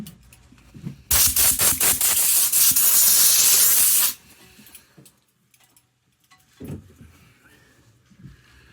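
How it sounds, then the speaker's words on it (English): Lacquer spray from an aerosol can misting onto a routed oak sign, one loud continuous hiss lasting about three seconds close by, followed by quiet handling clatter and small knocks. "So we'll give her a quick spray of lacquer."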